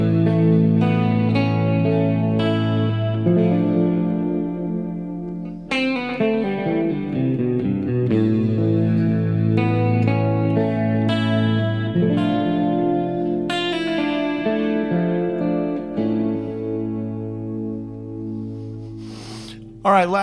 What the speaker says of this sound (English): here comes some clean chorusy things